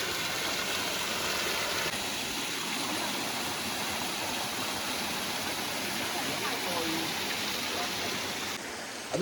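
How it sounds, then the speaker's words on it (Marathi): Small monsoon waterfalls on a river flowing continuously, a broad even rush of water that holds steady throughout. "अजून छोटे छोटे धबधबे चालू आहे तिकडे"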